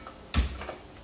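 A gas stove in a village kitchen being switched on gives one sharp igniter click, close and isolated in an otherwise quiet room, followed by a faint brief hiss.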